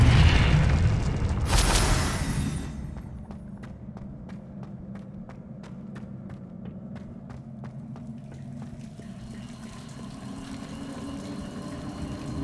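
A Confringo explosion spell in Hogwarts Legacy detonates as a loud, broad blast that fades out over a few seconds, followed by a quieter stretch of faint, rapid ticking clicks against a low rumbling background.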